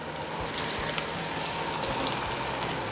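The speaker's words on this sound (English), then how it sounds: "now let's cook up our Baby Bella mushrooms right into the bacon grease" Baby Bella mushrooms fry in hot bacon grease, a steady close hiss and crackle with a few faint clinks, no voices.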